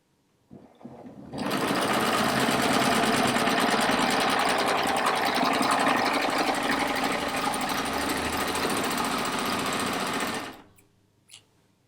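A serger runs at full speed stitching the corner of a rag quilt, one continuous loud mechanical whir lasting about nine seconds, starting abruptly after a brief click and stopping sharply, followed by a small knock.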